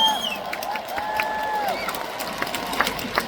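Concert crowd at an outdoor stadium on Labor Day applauding and cheering after a singer's performance, a steady wash of clapping with scattered whoops and shouts, moderately close and continuous.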